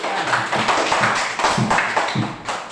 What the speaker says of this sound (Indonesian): Tepuk tangan buat diri.